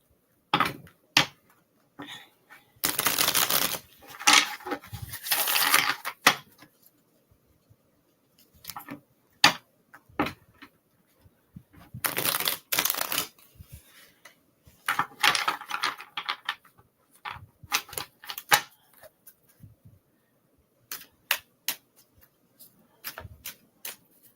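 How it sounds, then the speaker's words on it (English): Tarot cards being cut and shuffled back into a deck, heard as several short bursts of crisp riffling and flicking separated by quiet pauses and scattered soft taps, close and fairly quiet, with no talking. "let me cut these cards back in"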